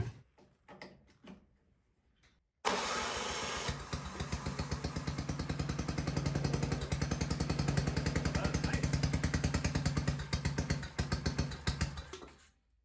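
An old wood splitter's gas engine clatters and knocks a few times, then catches and runs with a loud, steady rhythmic chugging before winding down at the end.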